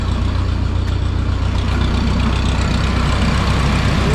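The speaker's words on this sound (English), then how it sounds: "Puts way more load on the tractor than I thought it would" A heavy diesel tractor engine runs steadily under load, spinning farm equipment by belt, with a deep, constant rumble and droning hum, loud and close, with no talking.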